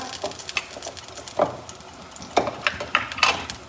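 Spoonful of desi ghee heating in a kadhai for milk vermicelli, giving a soft sizzle broken by scattered clicks and scraping taps of a spoon against the pan, close and moderately loud.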